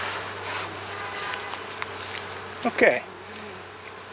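Honey bees buzz inside an opened beehive super fitted with a queen excluder, making a soft, steady hum with a few louder close passes of individual bees. A voice speaks briefly.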